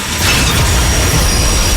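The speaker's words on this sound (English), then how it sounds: "If you think trains will stop if they see a car on the tracks" A train rolling loudly along railroad tracks, a steady dense roar of wheels on rail with a faint high squeal running through it, close and continuous without any voices.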